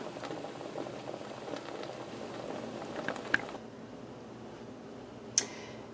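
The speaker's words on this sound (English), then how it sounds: "what we want to do is bring them to a rolling boil" Strawberries for jam at a rolling boil in a pot, a close bubbling churn with small pops that fades out partway through, followed by a single sharp tick.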